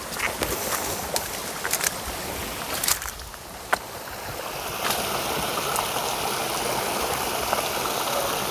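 Broadband rushing of a river stream flowing near Curug Luhur, a small waterfall in Pandeglang, steady and close throughout with a few brief knocks and splashes.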